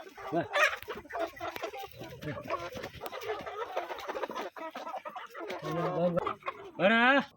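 Giriraja chickens cluck and squawk on a poultry farm in a busy, overlapping chorus, close and fairly loud, with a person talking over them.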